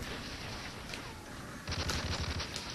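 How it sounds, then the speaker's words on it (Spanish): Call of Duty MW3 gunfire aimed at the player, a low continuous rumble of distant shooting that gives way to a louder burst of rapid shots near the end, with no talk. "Oh, ¿quién me dispara?"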